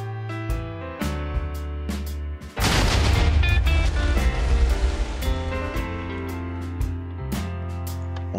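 Cannons fire along the starboard side of a galleon ship in Minecraft. A few scattered booms come first, then a dense, loud rolling volley lasts several seconds and trails off into separate shots, with musical tones underneath and no speech.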